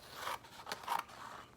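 Scissors cutting folded paper along its creases, a few quiet crisp snips and scraping strokes in quick succession, close and soft with nothing else around.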